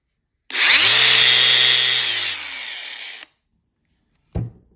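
DeWalt 20V MAX grinder on a 5.0Ah battery spins up with a loud, steady whine for nearly three seconds, then quickly winds down as the brake engages, followed by a short clunk.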